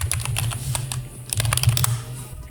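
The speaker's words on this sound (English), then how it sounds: "And I'm sorry if you hear a lot of clicking." Rapid clicking from typing on a computer keyboard at a desk, a close, busy run of sharp keystrokes in bursts with a brief lull near the end.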